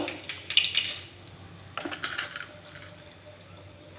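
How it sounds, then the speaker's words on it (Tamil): Urad dal is tipped into hot oil where mustard seeds have already spluttered. A quiet patter of grains hitting the pan is followed by light crackling as they settle, with no voices. "இப்போ உளுத்தம்பருப்பு போட்டுக்கலாம்"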